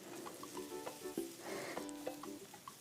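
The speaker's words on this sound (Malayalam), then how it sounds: "അതും കൂടെ ഇട്ടൊന്ന് വഴറ്റിയെടുക്കാം." Chicken spring roll filling is sautéed in a pan, giving a soft steady sizzle broken by repeated spoon-scraping stirs, close and quiet with no talking.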